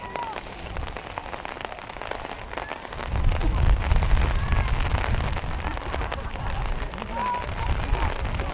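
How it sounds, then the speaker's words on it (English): Heavy rain pours down during a Junior Championship Final football match between Mullaghbawn and Culloville, a steady hissing patter that swells louder after a few seconds, under a commentator's voice. "Rain starting to belt down at us again."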